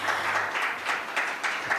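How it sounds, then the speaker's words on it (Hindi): Audience applause at a farmers' convention in Bhiwani greeting agriculture minister JP Dalal: a steady, fairly dense crowd clapping with gentle swells, heard alone for under two seconds. "जोरदार तालियां एक बार बजा दीजिए जेपी दलाल जी के लिए"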